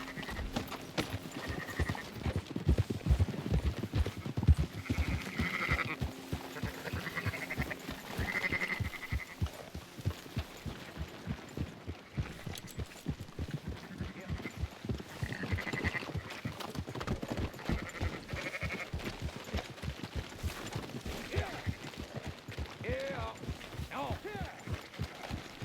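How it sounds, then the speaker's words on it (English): Horse hooves clip-clop steadily with sheep bleating intermittently in Red Dead Redemption 2, while a voice talks over the livestock and hoofbeats throughout. "Fine sheep."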